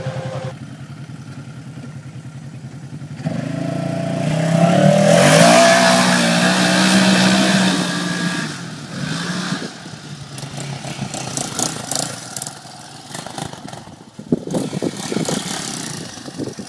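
A car engine starts and revs, rising to a loud, sustained roar, then settles into uneven, rougher running with intermittent bursts as it drives off, with no speech.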